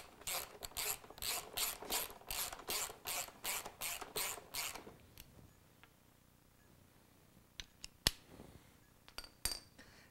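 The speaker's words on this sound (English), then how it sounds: "Now we can bolt our rear subframe back in place." A ratchet clicks rapidly in about a dozen quick, even strokes while tightening bolts on a CRF dirt bike's rear subframe, followed by quiet pauses and a few sharp metallic taps.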